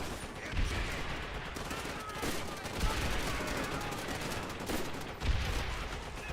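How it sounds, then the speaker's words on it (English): Grenade launcher firing in Call of Duty: World at War, with a couple of heavy thumps standing out over continuous background gunfire and battle noise. "Right, grenade launcher time."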